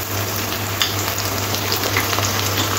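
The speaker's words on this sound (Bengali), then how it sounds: "আদা রসুন বাটাটা খুব ভালো করে কষে নিতে হবে যাতে কাঁচা গন্ধটা না থাকে" Ginger garlic paste fries with onion and tomato in a pan, giving a constant dense sizzle for a few seconds with faint stirring scrapes and no speech.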